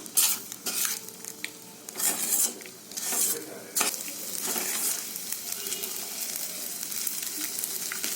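Sago upma (sabudana uppittu) frying in a pan over a low flame, with a continuous close sizzle and bursts of scraping as a spoon stirs it against the pan, no voices.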